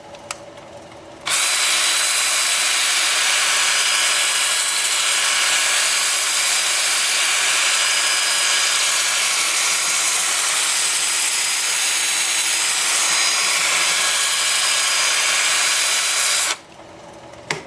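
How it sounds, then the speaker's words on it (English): A wood lathe spins while turning a piece of sassafras, giving a loud, steady, broadband whir that starts abruptly, holds for about fifteen seconds and then cuts off, with no voices. "I'll also spin the lathe forward."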